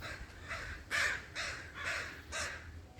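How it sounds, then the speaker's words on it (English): A crow caws outdoors in a series of about five harsh, evenly spaced calls, moderately near and clear against a quiet background. "The crowing is happening out there."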